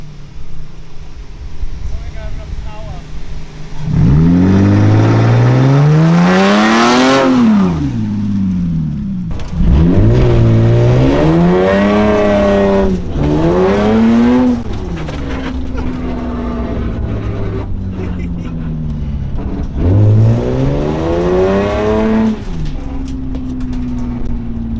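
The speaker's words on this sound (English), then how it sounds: "Yo, do a burnout!" A Lexus GS300 drift car revs hard through repeated sweeping climbs and drops during a burnout, loud and close, with several rising bursts and falling engine pitch, while people talk over it.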